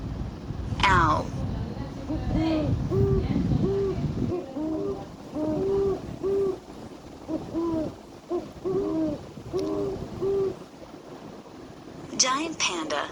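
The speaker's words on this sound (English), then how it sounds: "Owl." Owl hooting in a series of repeated soft, rhythmic hoots, moderately close and steady, with a few short sharper calls at the start and end.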